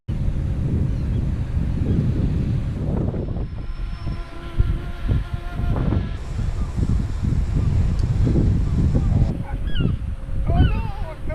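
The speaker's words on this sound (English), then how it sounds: "Don't know what the sound quality would be like because it's really windy." Strong wind buffets the microphone in gusts by the sea at Hartlepool Headland, where a small drone flies among seagulls, with gull cries and honks breaking through toward the end.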